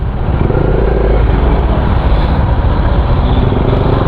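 A motorcycle riding on an expressway-bound road, heard as a loud, constant roar of engine and rushing wind that stays close throughout.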